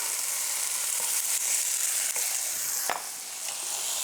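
Garlic cloves frying hard in a pan, a loud continuous sizzle with occasional scrape and knock of stirring, steady and close throughout.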